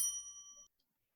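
A notification bell sound effect: one clear bright ding with ringing overtones that holds for about half a second and then cuts off, leaving silence.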